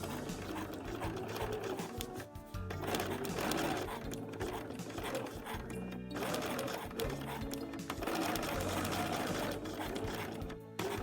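A sewing machine runs steadily as it stitches a seam around a spring coat piece, a loud continuous mechanical whir with brief dips and restarts.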